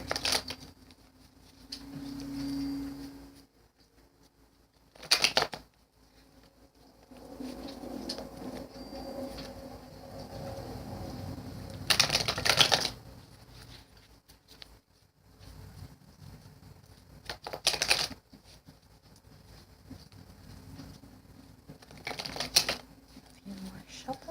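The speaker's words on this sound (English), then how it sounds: "Trying to shuffle up more." Tarot cards shuffled by hand during a reading, giving intermittent papery riffling bursts with quiet gaps between them and no talk over them.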